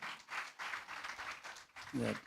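Church congregation clapping for the youth, a thick, fairly close wash of hands in uneven pulses, with a voice rising briefly near the end.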